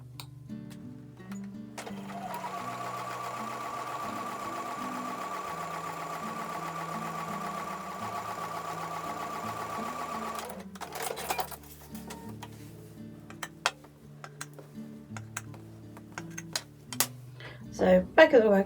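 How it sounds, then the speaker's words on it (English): A sewing machine stitches a quarter-inch seam in quilt block pieces, running steadily for about eight seconds with a mechanical hum, then stopping and starting in short bursts amid handling noises. "take those over to the sewing machine and sew with a 1/4 inch seam"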